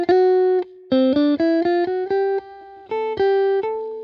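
Electric guitar plays a solo line over a single-chord vamp, weaving pentatonic notes with passing tones in short phrases of clear sustained and picked notes, loud and alone.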